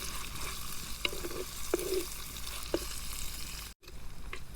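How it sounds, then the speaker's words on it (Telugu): Sliced onions fry in a pan with a steady sizzle, broken by a few sharp scrapes of a spatula stirring them and one brief gap near the end. "ఉల్లిపాయలు, ఇవి వేసుకొని లైట్ గోల్డెన్ కలర్ వచ్చేదాకైతే వేగించాలి."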